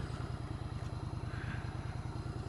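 A motorcycle rides into the English village of Debenham, its engine a steady rhythmic low thrum with a fast regular pulse throughout, close and constant, with no voices.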